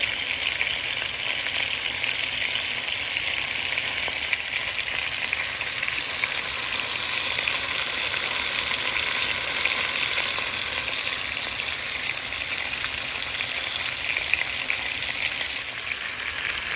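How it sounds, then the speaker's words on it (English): Bacon and beef frying together in a pan as the fat renders, giving a steady, dense sizzle and crackle that runs unbroken throughout with no voices. "Let that bacon render down a little bit"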